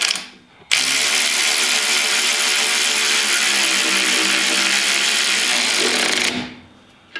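A powered ratchet runs steadily for about five and a half seconds, tightening bolts on a Kemimoto spare tire carrier fitted to a Maverick X3; the motor whirs loud and close, then stops.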